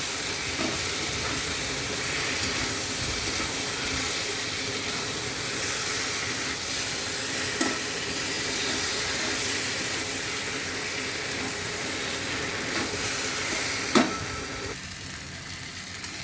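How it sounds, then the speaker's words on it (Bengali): Potatoes and pointed gourd (potol) frying in oil with spice masala, a loud, close, continuous hissing sizzle with occasional clinks of a stirring spoon against the pan. "এবার আমি আলু পটলগুলো একসঙ্গে দিয়ে দেবো এবার একটু কষিয়ে নেবো"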